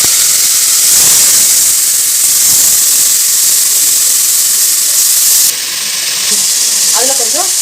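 Four onions drop into hot oil in a pot for one-pot sambar rice, giving a loud, steady, close sizzle and hiss that eases slightly near the end.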